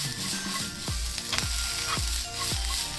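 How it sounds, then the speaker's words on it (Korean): Sliced onions stir-fry in a tablespoon of grapeseed oil in a pan, giving a loud, steady sizzle broken by several rhythmic low thumps and scrapes of stirring, with no talking. "아까 사용한 팬 그대로 포도씨유 한 큰술 두른 후 자른 양파 모두 넣어 투명해질 때까지 볶아주세요."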